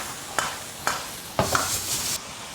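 Pre-soaked soybeans tossed and stirred in a hot pan with chili bean paste, dark soy sauce and cooking wine, sizzling steadily with several sharp scraping strokes of a spatula, close and fairly loud.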